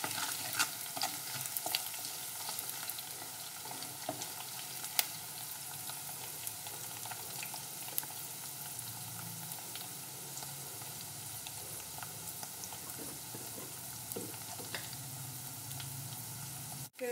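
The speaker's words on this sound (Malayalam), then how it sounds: "ഇതിനെ ഒന്ന് വഴറ്റിയെടുക്കാം." Garlic, ginger, green chilli and dried red chilli sautéing in a pan, a steady low sizzle with frequent scraping stirs of a spatula, close and moderately quiet, without talk.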